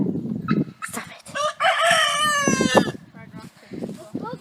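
Farmyard chickens, red sex-links and barred rocks, cluck in short bursts around a rooster's loud, close crowing call, with a person talking briefly among them.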